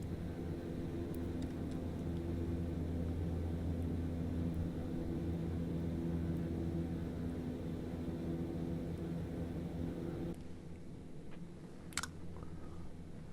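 Black Square Starship turboprop taxiing in MSFS, a steady droning engine hum with low rumble holding evenly, then dropping to a quieter idle near the end with a brief sharp click.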